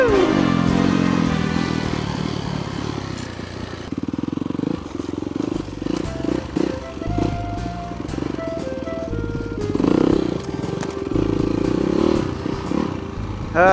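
Motorcycle riding off through rough terrain near a log, its engine loud and close with shifting revs and clatter throughout, varying in pitch as it pulls away, with no talk.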